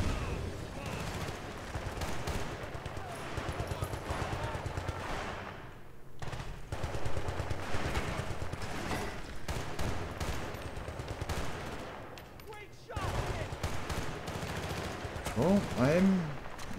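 Sustained gunfire in the video game Bad Company 2, bursts of automatic weapons and shots coming from several directions almost continuously, with a few brief lulls and a voice speaking over parts of the battle.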